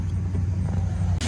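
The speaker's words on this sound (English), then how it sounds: "cars go by here so loud." A steady low traffic drone as a car passes nearby on a road, continuous and fairly loud, with no talking.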